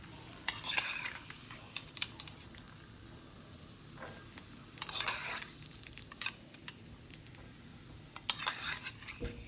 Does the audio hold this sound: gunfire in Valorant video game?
no